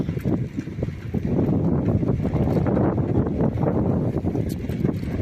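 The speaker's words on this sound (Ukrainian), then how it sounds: "Вітер в руках, свистить, нічого не чую." Wind rushes hard against the microphone in a continuous loud roar, gusting unevenly with no voices, in the river port area of Kherson.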